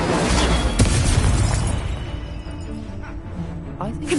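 Magical blasting-spell explosions from a Hogwarts video game, a loud broad boom that fades over a few seconds amid game noise, with a fresh burst at the end.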